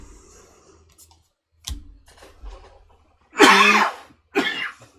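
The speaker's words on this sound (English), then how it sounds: "I got a cough." A man with a head cold gives a couple of soft throat clears, then two loud, close hacking coughs in quick succession, with faint clicks and rustling between them.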